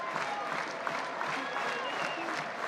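A college baseball crowd at Auburn versus Stetson claps and cheers in a steady, textured burst of applause, fairly distant and sustained through the moment, with faint talk mixed underneath.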